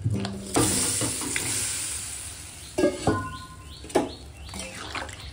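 Fried potatoes and eggs dropped into a pan of sizzling gravy for an egg curry, giving a few clattering thumps over a constant hissing fry, with faint bird chirps in the background.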